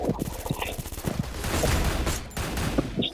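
Rapid bursts of gunfire in a Free Fire tournament match, crackling shots in quick succession under excited voices of players calling to each other.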